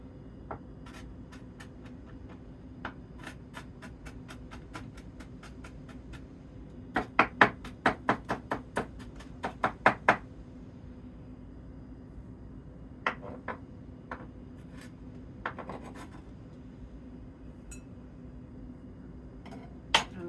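A knife chops vegetables for a cold black-eyed pea salad, crisp taps hitting the cutting board in scattered bursts, including a quick run of a dozen strokes, close and clear against a quiet kitchen.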